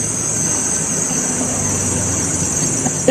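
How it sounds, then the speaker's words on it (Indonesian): An engine runs at a steady idle, a continuous close drone with a constant hum and no pauses or speech. "Suara mesin gitu."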